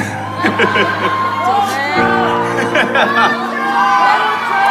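Concert crowd screaming, whooping and cheering, a dense roar of many voices with scattered shouts and laughter, loud and close throughout.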